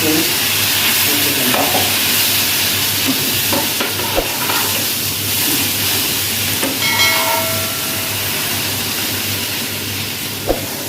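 Bread sandwich toasting in a sandwich maker as a breakfast dish, giving a steady broadband sizzling hiss with a few soft clicks and taps scattered through it.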